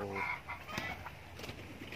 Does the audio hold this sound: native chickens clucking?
yes